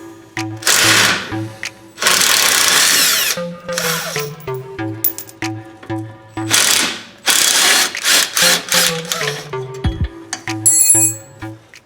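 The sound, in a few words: ratchet wrench removing lower shock bolt on Jeep Cherokee XJ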